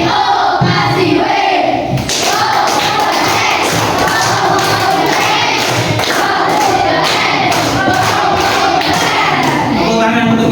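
A group claps loudly in a teacher-training class session, dense and continuous applause mixed with crowd shouting and cheering that fills the whole stretch without pause.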